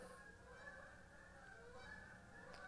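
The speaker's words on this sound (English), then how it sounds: "Hear the fucking geese?" Geese honk continuously in the distance, faint and steady against a constant background hum.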